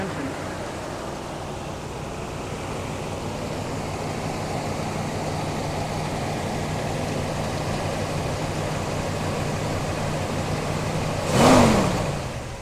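A 1966 Ford Mustang GT Fastback idles with a steady, even rumble after a near-cold start, then gives one short rev near the end that swells and falls back to idle.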